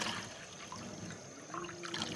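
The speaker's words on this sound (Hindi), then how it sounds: "चलो अभी ये पानी डालते हैं" Water is poured in a soft, continuous trickle while a fish fry is being cooked, faint and steady with light background noise.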